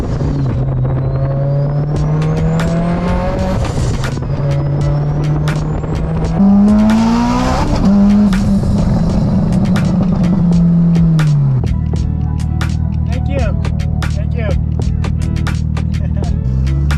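A Mitsubishi Lancer Evolution X engine revs and climbs through gears, rising and falling in pitch, then drops to a steady low idle with a few ticking clicks.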